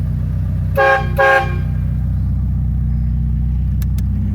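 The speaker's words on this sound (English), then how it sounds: "That's the air horns." Two short, loud car air horn blasts in quick succession over a steady idling engine rumble, followed by a couple of faint clicks.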